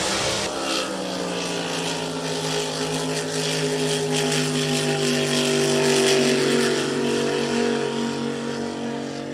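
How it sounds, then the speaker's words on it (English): A supercharged blower drag boat races a nitrous hot rod boat in a lake drag racing final, their engines a loud sustained roar with layered droning whine that shifts in pitch and swells toward the end, with no talking. "A blower boat versus a nitrous hot rod of Jesse James Jr. Tyler Bame using the supercharger"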